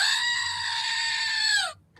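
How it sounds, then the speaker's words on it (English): A goat screams in one long, loud, humanlike bleat that holds steady for nearly two seconds, then cuts off abruptly into near silence. "Screaming goat."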